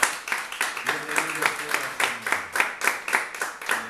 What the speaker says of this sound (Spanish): ¿Por qué no le damos un aplauso al Rey de Reyes de bienvenida?